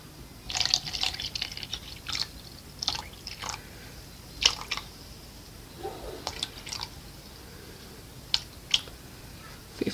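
Water is poured into a cup and gathered for an acrylic pour paint mix with Floetrol, producing scattered close drips, splashes and squishy liquid sounds at an irregular rhythm over a quiet background.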